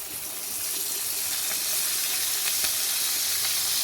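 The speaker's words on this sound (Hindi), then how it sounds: "लहसुन को भी थोड़ा सा हम कड़कड़ाएंगे" Fresh and frozen garlic sizzles steadily in hot oil in a home kitchen pan, a continuous bright crackling hiss that holds evenly throughout with no talking.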